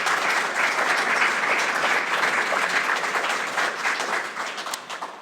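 An audience at a school board candidates' forum applauds, a dense, steady wash of many hands clapping that carries on for several seconds and thins out toward the end.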